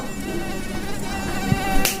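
A mosquito's thin, steady whine hums close and continuous for about two seconds, with a faint tap near the end.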